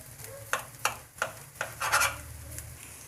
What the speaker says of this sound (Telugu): ఎగ్ ఇలా వేయించుకోవాలండి, లైట్గా వేయించుకోవాలి.